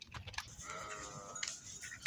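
A newborn lamb bleats in a sustained wavering cry at a village farm in Antalya, Kepez, close and clear, with shorter bleats and faint clatter around it.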